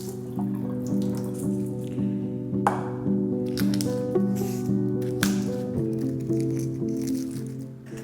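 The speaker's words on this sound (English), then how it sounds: "Rinse and drain the rice 2 to 3 times to get rid of the excess starch." Short grain rice is rinsed and drained by hand in a bowl of water, with wet squishing, swishing and dripping sounds under steady background music.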